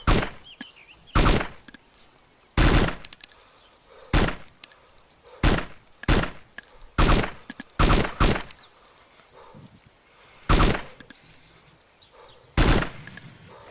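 Gunshots in the video game DayZ ring out as about a dozen loud, sharp single reports at irregular intervals, each standing alone against a quiet background.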